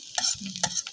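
Bitter gourd and shrimp are stir-fried in a pan, with two quick scraping stirs over a light, close sizzle.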